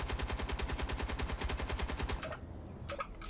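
Rapid automatic gunfire aimed at a turret in the space building game Space Engineers, a fast even stream of sharp shots for about two seconds, then a pause and a couple of isolated bursts.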